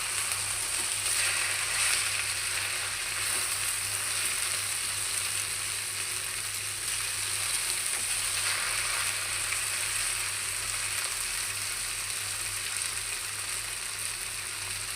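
Leftover cooked rice fries in a pan for fried rice, an even, unbroken hiss of sizzling oil held steady at close range over a low background hum, without speech.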